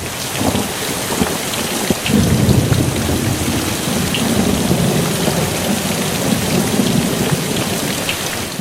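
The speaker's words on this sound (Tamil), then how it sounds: "தலைநகர் சென்னையின் பல்வேறு இடங்களில் தொடர்ந்து மழை பெய்து வருகிறது" Heavy rain pours steadily on surfaces in Chennai during a storm, with low rolling thunder rumbling through the dense, loud wash of rainfall.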